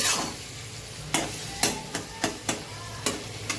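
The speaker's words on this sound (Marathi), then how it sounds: "इथे कांदा भाजून घेते वाटण्यासाठी" Onion roasting in a pan for a masala paste for chicken biryani, a steady sizzle broken by a series of sharp scrapes and taps as the pieces are stirred, close and fairly loud, with no talk.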